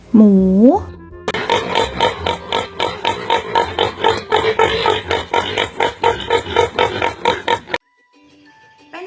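Rapid, rhythmic pig grunts and oinks repeat steadily for several seconds, loud and close, after a brief high voice at the start.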